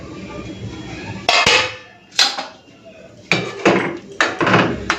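A steel spoon clanks against a bowl as ghugni is served, giving five or six sharp metallic knocks and scrapes at uneven intervals, close and loud, with quieter stretches between them.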